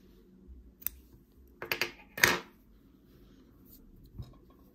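Scissors snip crochet yarn after a finishing chain on a small crocheted flower, giving a few quick, close, crisp clicks around a short burst of cutting, then quiet.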